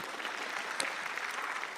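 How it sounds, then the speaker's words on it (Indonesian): A comedy-show audience bursts into applause, a dense, even roar of many clapping hands, brief and steady with no voices on top. "Tepuk tangan untuk pemerintah."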